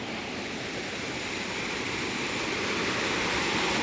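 Clear mountain river water rushing steadily close by, a dense continuous flowing wash with no voices.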